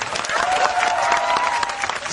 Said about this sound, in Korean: 참가하신 사람들에게 경례의 박수를